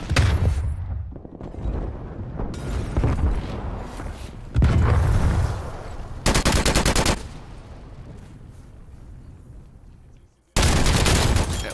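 In the video game Call of Duty Black Ops Cold War, bursts of gunfire and automatic weapon fire come in loud clusters between quieter stretches, with a few booms.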